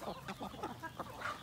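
Broiler chickens and breeder hens on a Philippine range poultry farm cluck in repeated short bursts, close and fairly loud, with a steady farmyard hum underneath.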